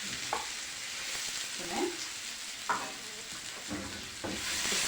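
Lamb sizzles steadily in ghee with mastic for Saudi kabsa, a dense continuous frying hiss broken by occasional stirring scrapes, close and fairly loud; a voice says a single brief word.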